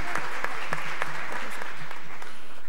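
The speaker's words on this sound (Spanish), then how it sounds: "a dar un aplauso para nuestros ponentes." Conference attendees applaud the speakers at the close of a panel session, a steady burst of many hands clapping together that fills the room at close range throughout.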